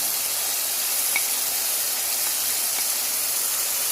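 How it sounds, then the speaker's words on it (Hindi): Red chilli powder, turmeric and salt frying in oil for village-style daal mash give a steady, close, even sizzle with faint occasional pops, heard on its own without talk. "अब इसको 1 मिनट के लिए भूनें।"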